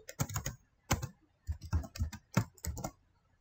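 Keys clatter on a computer keyboard as a file name is typed, a few quick, close clicks in short irregular clusters with brief gaps, heard alone.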